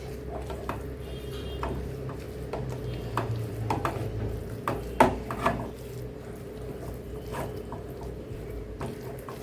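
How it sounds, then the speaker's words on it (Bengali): Soybean paste being hand-mixed with mustard oil and nut paste in a bowl, a steady stream of close, soft squelching and tapping sounds with no talk. "এখন ভালো করে আমি মেখে নেব বাদাম বাটার সাথে।"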